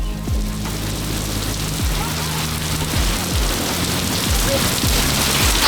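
Steady, heavy rain hisses continuously, with a rhythmic low thumping repeating underneath about once per second.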